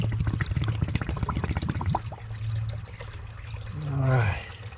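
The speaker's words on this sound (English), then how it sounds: "Fresh water for the canteen." Fresh spring water pours steadily into a canteen, a continuous splashing trickle that runs for several seconds and rises in pitch as the container fills toward the end, close and moderately loud.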